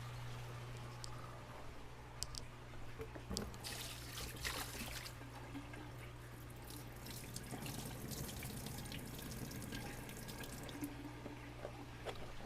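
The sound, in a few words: emptying water out of a fish container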